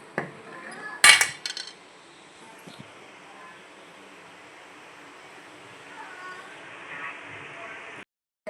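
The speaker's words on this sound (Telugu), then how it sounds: "బాయిల్ అవుతున్నప్పుడు బాగా కలుపుకుంటూ అంచులు వెంబడి ఫుల్గా కలుపుకుంటూ ఉండాలండి" A spoon stirring boiling milk in a pot for kulfi: a quick metallic clatter against the pot near the start, then a long stretch of faint, low simmering and soft scraping.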